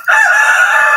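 A single loud rooster crow rings out close by in the Philippines, one sustained call with no other sounds.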